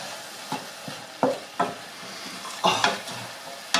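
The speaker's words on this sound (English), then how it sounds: "I'm going to add my spices and we're going to cook those off for just a few minutes" Spices cooking off in a pot for Moroccan harira soup, a soft sizzle under repeated scraping stirs that land as sharp, irregular knocks of a spoon against the pot, fairly close.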